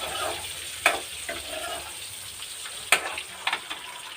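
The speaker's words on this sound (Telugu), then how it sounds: "కొంచెం ఆయిల్లో ఫ్రై చేసిన ఎగ్స్ కదా రుచిగా ఉంటాయని చెప్పి అలా చేస్తాను నేను" Eggs frying in oil in a pan, a soft steady sizzle with a few sharp crackles and pops scattered through, close and moderately quiet, no voices.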